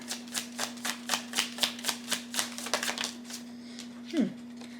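Astrology cards being shuffled and dealt, a rapid run of about a dozen crisp, close riffling flicks over a steady low hum, ending with a brief scrape as a card is drawn.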